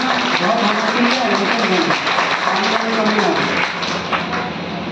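Newly appointed teachers at an induction training session in Chhatarpur, Madhya Pradesh, give steady, fairly loud applause, with a hint of voices mixed beneath the clapping.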